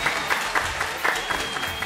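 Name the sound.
audience applause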